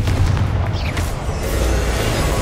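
A Confringo fire spell goes off in the video game Hogwarts Legacy, a loud rumbling blast that fills the whole moment with a dense, sustained boom and crackle, with no talking.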